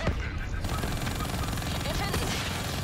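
Rapid gunfire crackles in Call of Duty: Black Ops 3 during a fight at an Egyptian aquifer, with dense bursts of automatic shots and explosions layered over busy game sound at moderate loudness.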